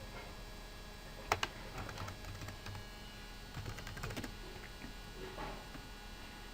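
Computer keyboard typing during an online Pokémon battle: a few quiet clicks and a short burst of keystrokes, faint against a low background hum.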